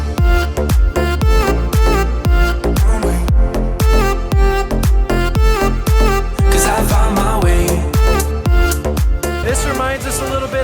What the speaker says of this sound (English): there's gonna be a lot of music in this area